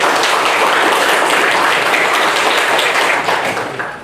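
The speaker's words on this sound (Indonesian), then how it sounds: "Tepuk tangan dulu untuk Tara." Students in a classroom give a steady, loud round of applause for their classmate Tara, a dense wash of clapping that fades slightly toward the end.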